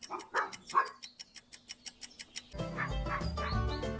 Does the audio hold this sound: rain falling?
no